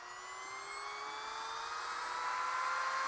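A Vevor 40,000 RPM hand grinder fitted with a single cut carbide burr spins with a smooth, high whine that climbs slowly in pitch as it speeds up, steady and unbroken with no talking.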